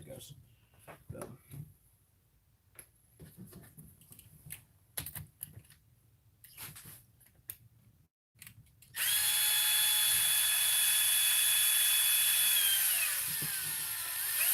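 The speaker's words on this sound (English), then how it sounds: "So I'm taking out that fourth bolt to get the pumpkin cover off." A power drill backs a bolt out of the pumpkin cover on a Traxxas TRX-4 or TRX-6 RC truck, starting with soft clicks and fiddling under a speaking voice, then a sudden loud, steady high-pitched whir that winds down at the end.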